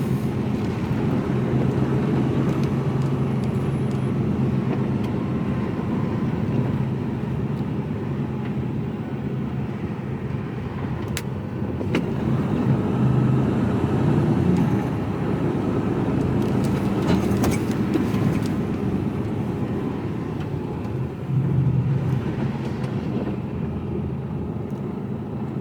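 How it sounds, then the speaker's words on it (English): Steady road rumble and engine drone heard from inside a Mercedes Actros HGV container truck cab on a UK motorway, a continuous low roar with occasional faint passing vehicles and no talk. "Traffic this morning here"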